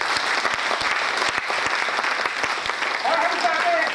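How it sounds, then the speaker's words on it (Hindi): Audience applause fills a training session hall, dense steady clapping from a crowd sustained throughout, loud and close with no pause. "एक बार उनके लिए ताली हो जाए"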